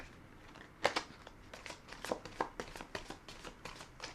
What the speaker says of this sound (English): let me go ahead and shuffle a little bit